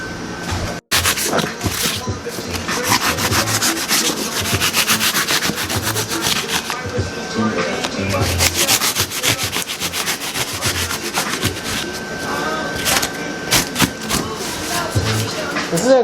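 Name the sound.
sanding expanding foam on a DIY car bumper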